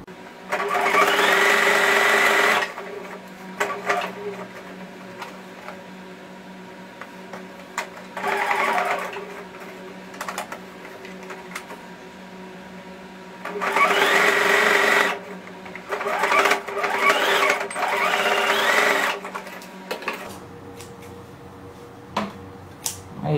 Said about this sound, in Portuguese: Tomando cuidado aí para costurar os quatro tecidos.